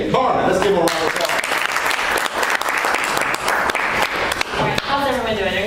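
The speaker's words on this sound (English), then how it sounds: "Let's give her a round of applause" Audience applause for a Toastmasters club president introduced as evaluator at an open house meeting, steady clapping throughout with voices and cheers mixed in near the start and end.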